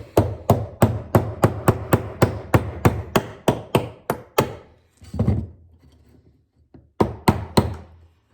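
Sharp metallic taps from a hammer striking a pin while repairing the winch of a fire-damaged ATV, a quick steady run of a dozen close, loud blows, a pause, then three more.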